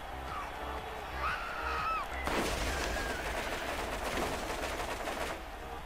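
Gunfire from the video game Borderlands, on a zombie-themed add-on level, sets off partway through as a dense, rapid burst of shots that continues to the end behind quieter game sounds.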